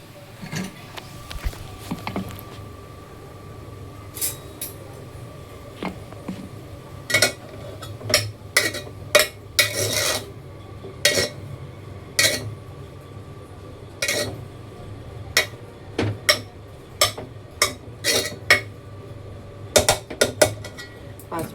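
Grated vegetable frying in a pan on a large gas burner, a steady low sizzle under repeated clinks and scrapes of a spatula against the pan, with sharp metallic taps recurring every second or so.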